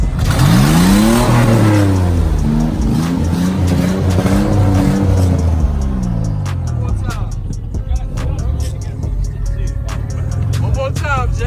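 At a rain-soaked car show, a car engine revs hard and loud, climbing and falling through several sweeping pitch swings before settling into a steady rumble, with people talking nearby.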